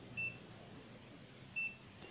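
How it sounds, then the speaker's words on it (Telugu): A motor controller sounds its overload warning, two short electronic beeps about 1.4 seconds apart, faint over a steady low hum. "ఓవర్లోడ్ రాగానే మనకి బీప్ వస్తుంది. అంటే ఓవర్లోడ్ అయ్యింది అని అర్థం అనమాట."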